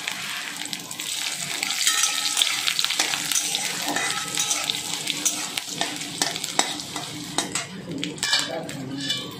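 Garlic pieces fry with a steady, dense sizzle in a hot pan, with occasional stirring scrapes and light utensil clinks, close up and continuous.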